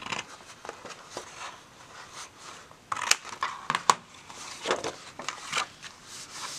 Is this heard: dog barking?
no